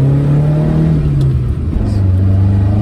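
Toyota Corolla KE70 engine running with open, unfiltered intake, a close steady rough drone that swells slightly then settles, with no one talking.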